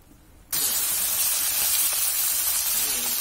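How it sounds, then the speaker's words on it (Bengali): A dried chili dropped into reused fish-frying oil bursts into a sudden loud sizzle that then holds as a steady, close hiss. "একটা শুকনো লঙ্কা দিলাম আর বাটির মধ্যে মাছ ভাজা তেলটা রাখছিলাম এটা দিলাম।"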